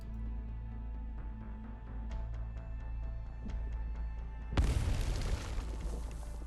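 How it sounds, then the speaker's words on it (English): Arknights explosion: a low droning ambience with faint ticking gives way to a sudden, loud, broad blast that stays as a sustained roar to the end. "Explosion! Explosion! Move away from the glowing area."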